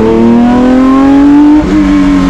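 A BMW M1 Procar race car engine on a slippery winter circuit, loud and close, holding a rising high-pitched note that dips briefly near the end before climbing again.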